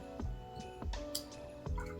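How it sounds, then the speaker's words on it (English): Bock beer from a brewers advent calendar being poured into a glass, heard as quiet liquid glugs and drips with a few soft knocks spaced roughly every second. "So let's go ahead and open this up and get them poured."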